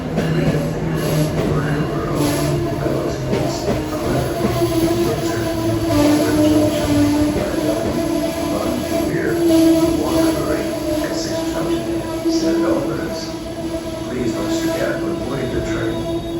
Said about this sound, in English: One is Amtrak train number 56 to Vermonter, 1027 departure to St. Albans.